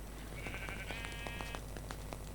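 A sheep in the Minecraft video game lets out one wavering bleat lasting about a second, set against steady background noise and soft clicking sounds.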